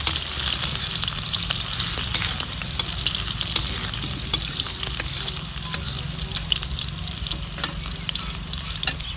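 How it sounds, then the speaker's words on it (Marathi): Chillies roast in a hot pan, giving a steady close sizzle with light scraping stirs through the whole stretch and no voices. "मिरच्या आपल्याला चांगल्या भाजून घ्यायच्या तर अगदी लालसर रंगाच्या हुस्तवर"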